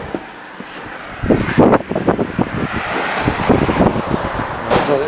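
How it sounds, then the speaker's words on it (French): Strong wind buffets outdoors at a campsite with a camper van, loud gusty roaring and rumbling against the microphone, rising after a quieter start and staying steady, with no talk. "il y a beaucoup de vent"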